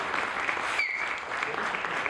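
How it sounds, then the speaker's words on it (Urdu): An audience applauds at a poetry recital (mushaira) during a book launch, with steady, fairly faint clapping that lasts about two seconds and has no voices over it. "تھوڑی سی تالیاں."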